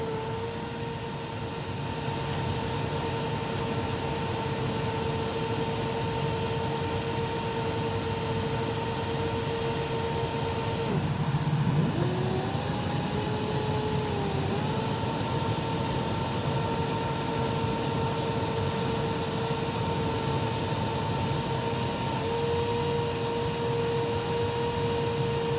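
A Filter Queen Majestic 360 vacuum runs on its low setting with the nozzle off, a steady continuous whine and motor drone holding evenly for the whole stretch with only a slight shift midway.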